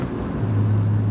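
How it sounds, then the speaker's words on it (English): A BMW E36 straight-six engine's exhaust holds a loud, low, steady drone that firms into a deeper hum partway through the brief moment, with no speech. "The exhaust is a bit on the loud side, but it's not the droning kind of exhaust."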